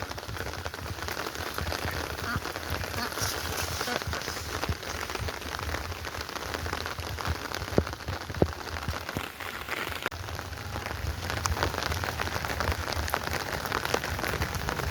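Steady rain pours onto surfaces outside a home, a dense continuous patter with a few sharper drops standing out, fairly close and without any voices.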